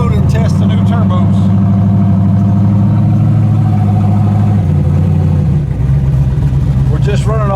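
A turbocharged Chevrolet S10 truck engine runs loud and close, holding a steady, throaty drone that shifts pitch partway through as it pulls up the road on a test run, with voices breaking in over it.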